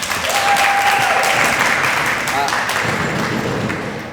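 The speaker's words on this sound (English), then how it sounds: "I just want to give Shakira McKnight a thunderous round of applause." A loud, full round of applause from an inauguration audience, dense clapping throughout with a brief voice or tone over it early, gradually easing off at the end.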